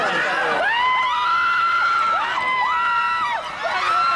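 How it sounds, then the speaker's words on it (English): A crowd at the running of the bulls screams and cheers loudly and continuously, with shrill, wavering voices overlapping throughout and rising and falling in pitch. "do you hear these people screaming?"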